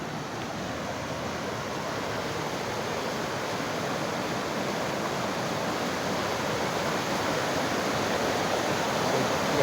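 Steady, rushing water of the Kabuyaw River in Tubod, Lanao del Norte flows without a break, a continuous broad wash of sound that swells slightly toward the end.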